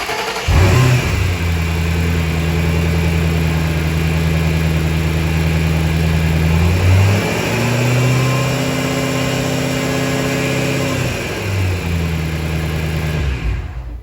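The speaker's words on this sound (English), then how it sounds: "fire up the engine, circulate the oil" A car engine starts after an oil change and runs to circulate the oil, a steady loud idle with a couple of revs rising and falling in pitch, close by and without talk.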